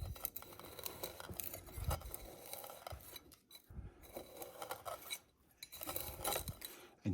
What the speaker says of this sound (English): so I'm going to use the curved spoon